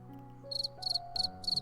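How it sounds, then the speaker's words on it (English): Crickets chirping at night in four short, loud pulsed bursts, each a rapid trill, set over a low sustained musical background. "It's getting late. I can hear the crickets."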